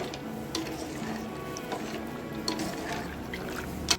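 Pasta boiling in a pot of water while being stirred, a steady bubbling and liquid wash with occasional soft knocks and splashes throughout, close and moderately quiet with no talking.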